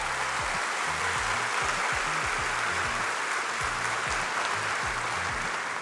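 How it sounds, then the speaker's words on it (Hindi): An audience at the SEMICON India 2025 inauguration applauds Prime Minister Modi, a dense, sustained wash of clapping from a large crowd filling the hall, with a low rhythmic thumping beneath it and no speech. "आइए अपने हृदय के उद्गार अपनी तालियों के माध्यम प्रस्तुत करते हुए विश्व के सबसे लोकप्रिय राजनेता माननीय प्रधानमंत्री जी का पुनः अभिनंदन करें"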